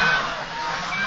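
Ducks and geese on a farm flock of about a thousand birds, a continuous dense mass of honking and quacking calls, loud and close, with no single voice standing out.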